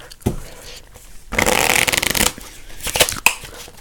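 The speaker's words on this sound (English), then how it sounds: "Let's give it a nice shuffle." A deck of playing cards is riffled and shuffled up close, a dense fluttering burst in the middle framed by lighter taps and card handling, with no talking.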